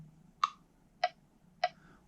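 A Pro Metronome app clicks in 5/8 time, three sharp ticks evenly spaced about 0.6 seconds apart, close and clear over a faint low hum, with no voices.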